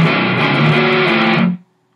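A heavily distorted seven-string electric guitar chord rings out loud and sustained, then is cut off abruptly, leaving silence.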